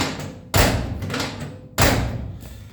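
A restored car door on an old project car shuts twice with solid, loud thuds, each followed by a short fading rattle and a brief quiet gap between the two closings.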